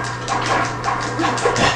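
A dog barks repeatedly in the game Sengoku, a series of close, fairly loud yaps in a quick rhythm against a steady background hum.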